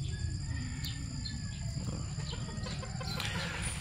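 A young stag gamefowl rooster in a hardening pen clucks a few times against a steady background hum, fairly close and moderately loud with no talk.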